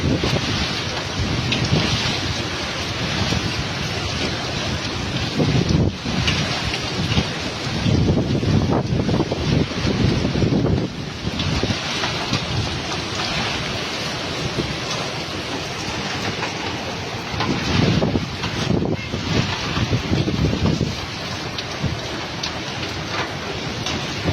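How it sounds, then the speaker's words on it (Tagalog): Strong sea waves and gusting wind on the Quezon coast during typhoon Rolly, a loud, unbroken roar that surges and swells in waves, with heavy wind buffeting the microphone throughout. "Nakikita niyo po ba yung dagat? Hindi ko lang masyadong masuna. Ganyan na siya kadilim, kalakas ang alon."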